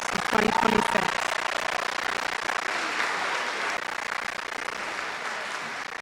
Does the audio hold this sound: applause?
yes